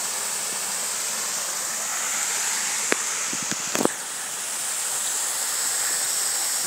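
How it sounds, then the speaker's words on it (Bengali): Clean water rushes through a seven-door sluice gate into the sea at Chattogram, a constant broad roar of flow with a few sharp clicks and knocks near the middle. "দেখছেন পানিগুলো সাগরে চলে যাচ্ছে, একদম ক্লিন পানি"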